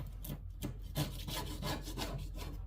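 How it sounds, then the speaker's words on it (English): Quick rasping strokes of a file or abrasive skimming surface rust off a Toro Timecutter Z5000 zero-turn mower blade, a steady series of close scraping passes with no talk. "I just go a quick skim over it, get any surface rust and debris off of it."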